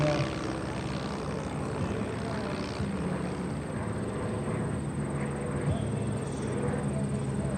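A propeller airplane passes over the field at the 2024 Westmoreland County Airshow, a steady engine drone holding beneath the noise of a crowd and a voice nearby, staying at a moderate distance the whole time.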